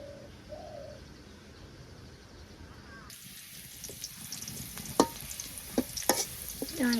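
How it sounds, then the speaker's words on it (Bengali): Hot oil suddenly starts sizzling as onions go into a wok, hissing steadily with sharp crackling pops; faint bird calls sound before the sizzle begins. "উস্তা ভাজি করবো, কড়াইতে তেল পেঁয়াজ দিয়ে দিছি"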